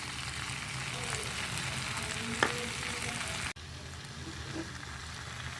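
Spices such as chili powder, cumin and ginger frying in a pan with yogurt added, a steady close sizzle with a clatter partway through, then a brief cut and a softer simmering hiss.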